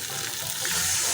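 Water pours into a pan of fried taro and potatoes, a loud, close rushing splash with a faint sizzle beneath, steady for a second with no talk.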